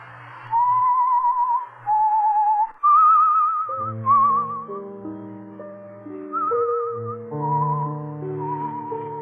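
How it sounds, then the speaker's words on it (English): A man whistles a wavering melodic tune in short phrases, close and clear, while piano chords enter partway through and continue beneath the whistling. "You whistle yourself like that very often?"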